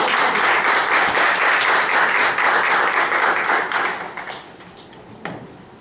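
A room of attendees at a Spanish-language session on radiology studies breaks into warm, dense applause that holds steady for several seconds and then thins and fades out, with a few last claps.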